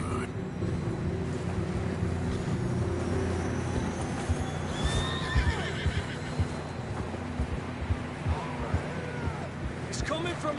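Horses whinny and snort on a trail in Red Dead Redemption 2, with clopping hooves and ambient game sounds under a steady background, while voices talk over it.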